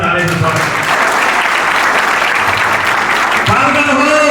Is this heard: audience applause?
yes